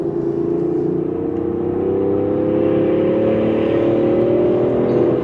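A Range Rover Sport engine in sport mode revs up, a loud, close, steady drone that climbs slowly in pitch over several seconds as the engine pulls harder.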